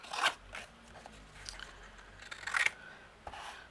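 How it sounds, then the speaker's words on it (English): Scissors snipping through paper or card while trimming pieces to size for a handmade exploding gift box, with two crisp cuts near the start and around two and a half seconds amid quiet handling rustle. "the others we're just going to use our scissors and cut down to the size"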